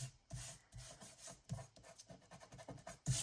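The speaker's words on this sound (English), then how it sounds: "Thankfully it rubs off, but something to be mindful of." Dried glue is rubbed off a sheet of paper by hand, a series of soft, close scratchy rubbing strokes in an uneven rhythm, quiet with no voices.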